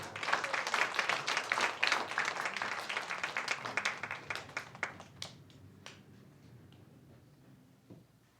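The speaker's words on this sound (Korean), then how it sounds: "박수하겠습니다." A church congregation claps together during a sermon, dense and steady at first, then thinning into scattered individual claps that fade out toward the end.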